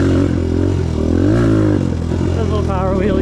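A 2022 Suzuki DRZ125L kids' dirt bike engine revs and buzzes loudly up close on a test ride, the pitch climbing and falling, with a rider's voice mixed in over the mechanical clatter.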